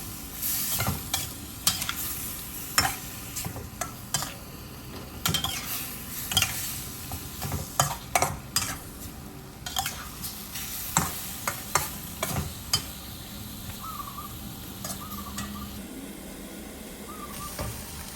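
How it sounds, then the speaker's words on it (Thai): Chicken giblets and wood ear mushrooms stir-fried with ginger in a pan, a steady low sizzle broken by repeated scraping and clanking of a utensil against the pan. "ผัดผสมให้เข้ากัน รอจนเห็ดหูหนูสุกนะฮะ"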